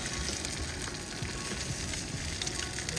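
Eggs sizzle and crackle in a hot pan outdoors beside a hotel near Tulsa, a dense, steady frying hiss that fills the whole stretch with no voices.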